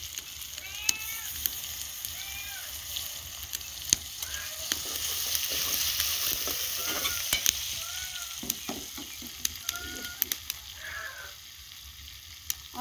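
Ginger frying in a pot of oil as rice with potatoes is started, a steady close sizzle with soft crackles and occasional stirring clinks throughout, plus faint chirps in the background.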